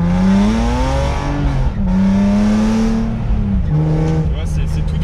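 A 360-horsepower BMW M3 E46 engine revs close and loud, its pitch climbing, dipping and rising again over several blips, with a brief drop between pulls.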